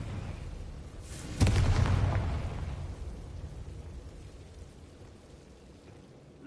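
The Confringo blasting spell goes off in the Hogwarts Legacy video game as a single loud booming explosion at about 1.4 seconds, followed by a rumbling decay that fades over several seconds, with no talking.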